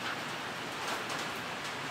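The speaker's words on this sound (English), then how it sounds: "started pouring down rain" Heavy rain pouring down outdoors, a steady dense hiss of drops on surfaces that holds constant throughout with no pauses.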